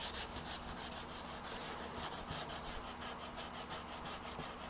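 Hand sanding a wooden guitar body with a fresh sheet of 240 grit paper on a hard interface pad, a steady run of rhythmic rasping strokes close by with no talk.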